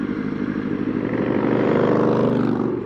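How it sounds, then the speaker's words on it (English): Motorcycle engine revs hard as a learner rider pulls away on a street ride, a close, steady rumbling roar that climbs in pitch and loudness over about three seconds, with no talking. "geez, I'm revving a lot taking off"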